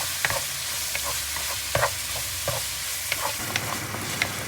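Chopped tomatoes frying in a pan for a crab curry, a continuous sizzle broken by several sharp spoon scrapes and clicks as they are stirred, no voices.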